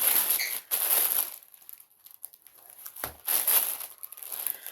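Bursts of dry paper crinkling and rustling, close by, with a quieter pause in the middle before the handling picks up again.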